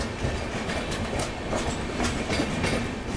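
Passenger train wheels clatter in a steady rapid clickety-clack as the Mangala Lakshadweep Express passes the Rajdhani Express on the Mathura line in India, loud and close with rushing air.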